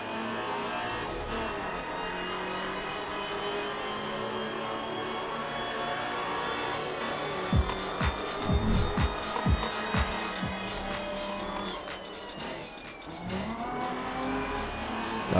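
Racing car engine in the video game Night Runners, roaring continuously at high revs with rising and falling pitch as it accelerates, with thumps and brief tire noise mid-run.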